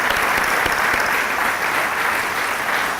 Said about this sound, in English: a round of applause for Sister